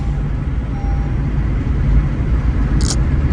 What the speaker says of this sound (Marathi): कंटिन्यू शंभू गाडी चालवतोय